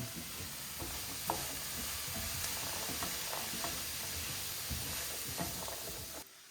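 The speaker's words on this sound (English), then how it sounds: "we're going to give this a good stir" A spoon stirs corn dip seasoned with black pepper in a hot pan, a continuous soft sizzle broken by scraping and clinking strokes at close range before the sound cuts out at the end.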